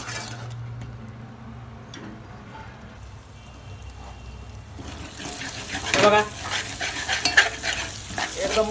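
Tomato paste frying with onions in a pan starts as a quiet hiss. Partway through it grows into a louder, busier sizzle with stirring scrapes and a faint watery gurgle.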